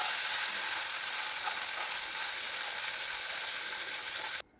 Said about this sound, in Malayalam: വറുക്കാനുള്ള മീനെല്ലാം റെഡിയായിട്ടുണ്ട്. നല്ലതുപോലെ വറുത്ത് വന്നിട്ടുണ്ട്.